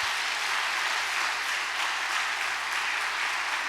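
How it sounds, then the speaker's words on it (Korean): A church congregation at a pastoral revival meeting breaks into loud, sustained applause after a worship song, a dense, continuous clapping that holds steady with no speech on top. "우리 다 함께 하나님께 큰 또 영광의 박수 한번 돌리겠습니다"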